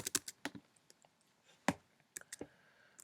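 Keys clack on a computer keyboard in short, irregular bursts of crisp taps, close and fairly quiet, with small pauses between clusters and no talking.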